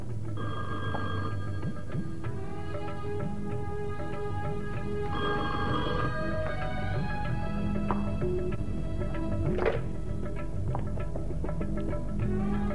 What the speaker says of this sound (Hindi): जरा फोन सुन लो।